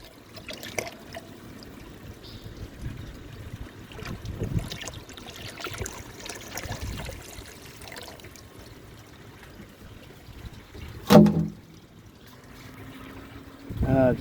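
Water trickling and splashing from a watering can into pond filters outdoors, a soft ongoing pour with a few louder knocks and splashes near the end.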